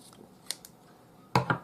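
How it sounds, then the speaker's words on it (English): Scissors snip off the excess cord ends close to a knot, with a couple of faint clicks, then two crisp, close cuts at the end in an otherwise quiet room. "So just use a pair of scissors, get them in quite close to the knot,"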